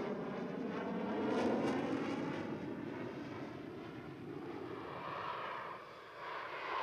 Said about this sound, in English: This is an F-5 demonstrating its ability to use a very secondary type runway.